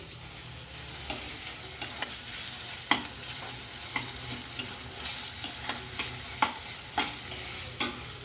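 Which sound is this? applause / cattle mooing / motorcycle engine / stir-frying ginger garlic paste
stir-frying ginger garlic paste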